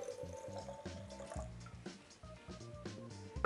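Water is poured for brewing freshly roasted and ground coffee, a soft trickle with drips heard under background music.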